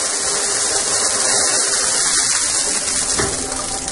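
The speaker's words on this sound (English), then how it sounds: "The way to use the chemical shower is very simple." Water gushes hard and steadily from a lab emergency chemical safety shower, a loud continuous rushing with an underlying hum, heard alone.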